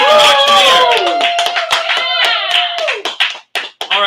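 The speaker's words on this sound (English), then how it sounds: "Let's have a big round of applause for Charlie Moon from Auctioneer." Clapping and cheering from the crowd for the auctioneer at an independent school's 40th birthday party, a steady burst of applause mixed with whoops and voices, thinning out toward the end.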